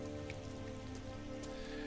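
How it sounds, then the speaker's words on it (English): Rain pours in the video game Heavy Rain as a dense, steady downpour hiss, constant and faint with a low hum beneath, and no voices over the brief stretch. "It's raining."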